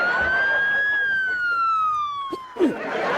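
An ambulance siren wails in a long rising-then-falling electronic sweep, fairly close and loud, with a brief voice and a short squeak near the end.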